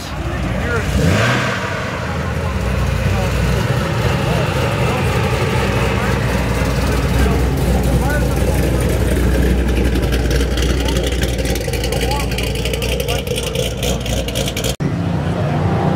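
A loud, sustained McLaren 720S supercar engine roaring steadily for most of the stretch, close by, cutting off abruptly near the end.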